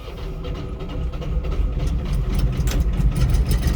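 A nearby Kamo engine turns over and catches, then runs on only one cylinder with a loud, rough, uneven rumble.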